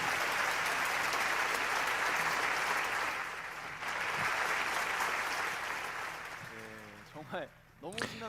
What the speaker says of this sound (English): Let us give another round of applause to the YSP team for their exciting